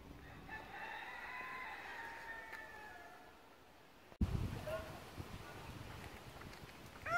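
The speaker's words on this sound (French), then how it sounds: "Des poules, des coqs." Hens and roosters in a city park give faint crowing and clucking calls at a distance, with a soft outdoor background and a sudden louder knock partway through.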